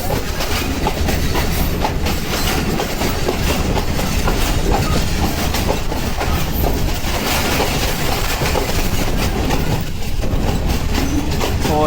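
The Allama Iqbal Express, 10 Down from Sialkot to Lahore, heard from inside an AC standard coach: loud steady rumble of wheels on rails with a continuous clickety-clack rhythm and occasional metallic squeals.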